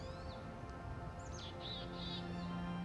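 A small mimic bird sings in the desert, delivering a few varied whistled and chirping phrases over a steady low background hum, fairly faint and slightly distant with no voices.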